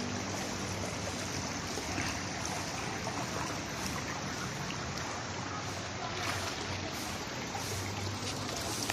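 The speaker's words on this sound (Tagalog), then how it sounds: "Running water yan guys." Water running into a chilly swimming pool, a steady broadband rush that stays loud and constant throughout, with no talk over it.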